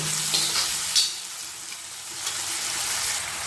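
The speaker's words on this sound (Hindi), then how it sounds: "अब प्याज को भी हम अच्छे से हिला लेंगे।" Onions and tomatoes frying and being stirred in a pan for sambar, a close, steady sizzle with scraping stir strokes and a few louder bursts, no talking.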